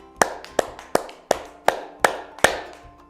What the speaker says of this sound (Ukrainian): Тепер тільки плескаємо долоньками.